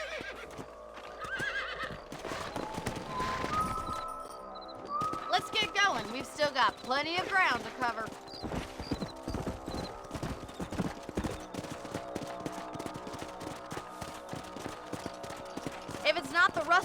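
Horses in Red Dead Redemption clip-clop along at a steady gait and let out a loud neigh, with someone speaking briefly over the hoofbeats and game music in the background.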